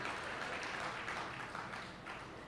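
A crowd at a motivational speech claps steadily in sustained applause, a dense even patter that eases slightly toward the end.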